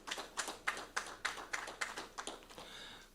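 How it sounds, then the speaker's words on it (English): Scattered clapping from a small audience after a presentation at a youth cricket classic launch, roughly ten distinct claps at a steady pace, fairly faint and fading out. "A round of applause for that presentation."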